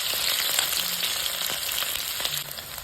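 Chopped mushrooms fry in a pan with a steady, close, crackling sizzle that holds evenly from start to finish, with no voices over it.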